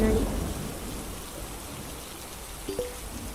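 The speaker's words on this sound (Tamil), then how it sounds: "ஐயோ இன்னும் மழை வேறு வந்துடுச்சு ஃப்ரெண்ட்ஸ், மழை வேறு வந்துடுச்சு" Steady rain falling in a video game, a constant close hiss of rainfall with a couple of faint knocks near the end, no talk over it.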